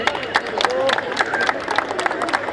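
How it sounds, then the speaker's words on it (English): A crowd at a flag hoisting ceremony in Mumbai claps and cheers for the winning team, scattered applause mixed with chatter and voices throughout. "Please give a huge round of applause to the winning team."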